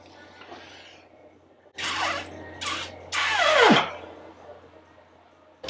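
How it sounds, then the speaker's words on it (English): Air blown into the coolant header tank of a Ford Escort Cosworth with an overheating problem, giving three loud gushing, bubbling bursts of water and air, the last ending in a falling gurgle, with quiet pauses between. "I thought I'd blow on it and see what happens. And when I do blow, it does come out."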